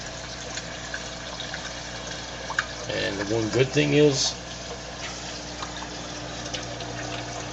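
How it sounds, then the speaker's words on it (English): Water flows steadily into a DIY sump tank, a constant rushing wash with a louder gurgling swell in the middle. Someone talks over it. "all this massive flow that's going on down in here, as you can see, there's a lot of water going on."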